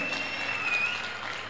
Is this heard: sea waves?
no